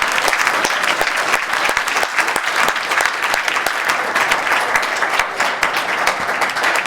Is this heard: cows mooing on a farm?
no